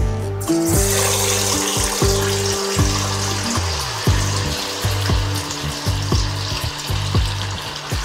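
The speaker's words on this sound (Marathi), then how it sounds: "आता आपण वडे तळून घेऊया।" Potato vadas deep-frying in hot oil in a kadhai, a loud steady sizzle and bubbling with occasional clinks from a spoon, no talking.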